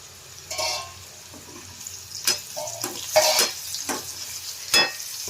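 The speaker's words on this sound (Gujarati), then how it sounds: "હવે આપણે ગેસની ફ્લેમ એકદમ સ્લો રાખી અને આપણે આને ઢાંકીને 2 થી 3 મિનિટ માટે પાકવા દેવાનું છે" Carrot and chili relish (sambharo) cooking in a pan over a low gas flame: a soft, continuous sizzle broken by several brief scraping stirs and clinks, close by with no talking.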